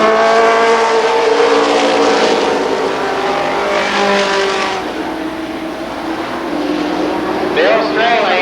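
Modified race cars roar around Columbus Motor Speedway on an oval, engines loud and sustained with passing surges down the backstretch, a commentator's voice running over the racket.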